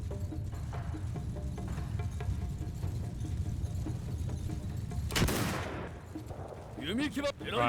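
Gunfire from cover fire in Mount & Blade II: Bannerlord with the Shokuho mod, a battle din with a louder burst of shots near the end.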